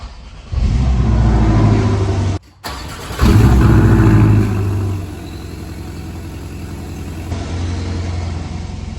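A stock 2017 Porsche 718 Cayman S cold-starts with a crank and loud flare, drops out briefly, then roars again into a high idle that gradually settles lower, close and loud throughout.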